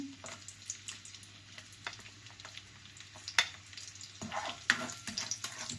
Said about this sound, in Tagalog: Gisa po muna natin ating bawang.